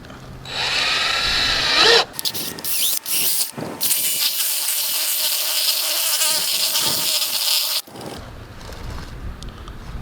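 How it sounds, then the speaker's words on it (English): A power drill whines loudly in a few bursts while drilling a hole in the plastic front bumper of a 2019-2022 Honda Insight, the longest a sustained spin of several seconds, before winding down. "drill that hole out so this is exposed for later times"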